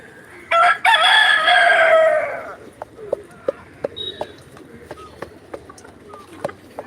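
A rooster crows loudly and close by for about two seconds, then scattered clucks and short pecking sounds follow, with faint talk in the background.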